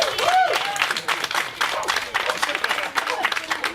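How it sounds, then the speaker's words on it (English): Crowd cheering and applauding at an outdoor dog park opening ceremony, a steady patter of claps with scattered shouts and chatter. "A little bit of a cheer for a good reason."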